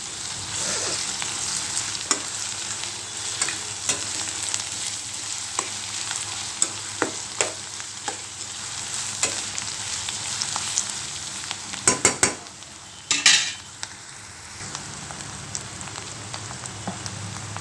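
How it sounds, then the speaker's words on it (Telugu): Ginger garlic paste being stirred into an egg curry with onions in a pan: a continuous soft sizzle with occasional spoon taps, then a short burst of sharper scraping clatter, close and unaccompanied by talk. "అల్లం వెల్లుల్లి పేస్ట్ వేసుకోవాలి కలుపుకోవాలి"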